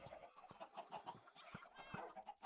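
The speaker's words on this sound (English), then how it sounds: "an automatic chicken breeder and cooker over there" Chickens in a Minecraft village cluck and burble softly near an automatic chicken breeder and cooker, giving a string of short, faint, overlapping game-animal calls with no talk.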